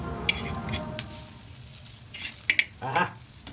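Kothimbir vadi, crisp coriander fritters, turned over in hot oil in a pan, with a low steady sizzle and a few sharp utensil clicks and scrapes near the end.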